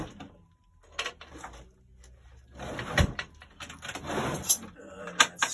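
Drawers are opened and rummaged through in an artist's studio while searching for a canvas stretcher, with scattered knocks, sliding scrapes and rattling clatter building in the second half, close and moderately loud.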